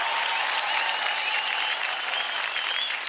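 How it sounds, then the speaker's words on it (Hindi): Loud, dense applause from a studio audience fills the whole moment for a dance couple on a televised Indian dance show, steady and unbroken with no speech. "जोरदार तालियां हो जाए विक्रम और निहारिका के लिए"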